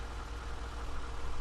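A tractor engine in Farming Simulator 2015 idles with a steady low, rumbling chug, continuous and fairly close for a short moment, with no voices over it.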